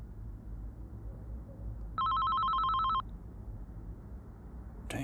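A phone rings once, a single bright electronic trill lasting about a second over a quiet background hum, followed by a short click near the end.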